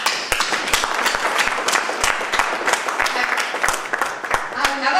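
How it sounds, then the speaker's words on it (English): A hall audience at an agrarian crisis workshop applauds the participants, a dense, sustained round of many hands clapping that carries evenly through the whole stretch, with some voices mixed in. "Comrades, now claps to the participants"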